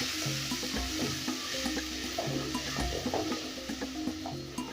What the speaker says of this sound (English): Then I'm going to fry it for about a minute or so.